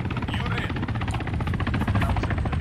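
A helicopter in the video game Arma 3 beats steadily and close, its rapid rotor pulses running throughout while a voice talks over it.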